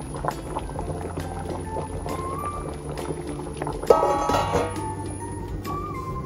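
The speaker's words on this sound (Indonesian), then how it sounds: "Jadi ini direbus sekitar 3 menit mendidih" Salted water boils in a pot with fish in it, a steady bubbling hiss with a brief louder splash partway through, no talking.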